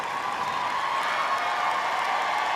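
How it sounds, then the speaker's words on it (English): Cheering and clapping from the crowd at the 149th Westminster Kennel Club Dog Show in the Garden make a dense, continuous wash of applause filling the hall. "it's nice to hear the cheers"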